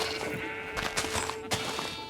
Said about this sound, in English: Look at that, we've got a little sheep in a cage.